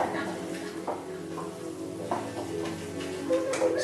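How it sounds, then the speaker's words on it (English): Cooked risotto stirred in a pan with stock, a soft sizzle with scraping spoon strokes and light pan knocks, close up, with some voice in the background. "I'm gonna keep on stirring."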